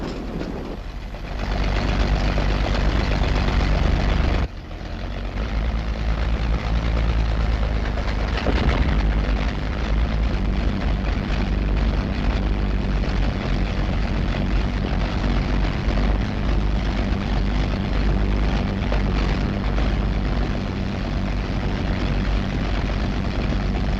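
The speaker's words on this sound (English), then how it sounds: "Engines throb and leap to life." Heavily loaded WWII bomber aircraft engines start up and roar to life, a loud steady throbbing propeller drone that swells after a brief pause and holds continuously.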